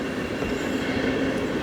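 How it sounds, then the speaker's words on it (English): A train rumbles steadily past outdoors, with a dense roar of wheels on rails filling the whole stretch, loud and continuous with no talk. "Guest appearance from a train."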